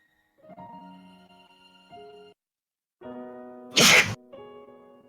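A single sharp, loud sneeze bursts out close by between stretches of sustained musical tones, standing alone without any talking around it.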